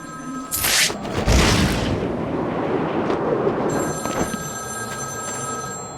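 In Batman Arkham City, a telephone bell rings steadily as a sustained metallic trill, mixed early with heavy booms and impacts, then carrying on in a quieter space.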